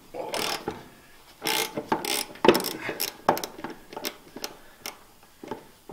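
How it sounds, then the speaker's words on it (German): Ratchet with a 14 mm socket loosening bolts on an MB Trac 800, rapid clicking bursts in irregular spurts separated by short pauses, close and clear with no speech. "Ratsche mit einer 14er Nuss. Und dann schrauben wir erstmal hier die beiden ab."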